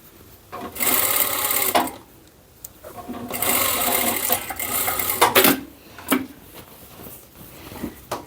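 A sewing machine stitches thin lining fabric of a cloth tote bag in several short runs of fast, close whirring, separated by pauses with small clicks and fabric handling.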